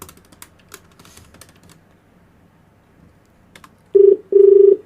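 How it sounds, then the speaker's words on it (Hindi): A phone being dialed for a radio prank call: soft key taps at first, then after a pause two loud close electronic tones, one short and one longer, and no talking. "फोन कर दिया, नंबर मिलाओ।"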